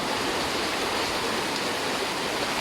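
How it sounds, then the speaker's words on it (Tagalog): Strong floodwater rushing along a flooded road, a loud, continuous broadband roar of fast-moving water that fills the whole clip steadily with no pauses. "Grabe na ang lakas ng baha dito."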